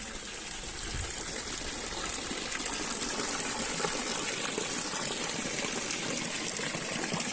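Ice-cold mountain water flows and gushes nearby in Alpedrinha, central Portugal, making a continuous, even splashing wash with no voices.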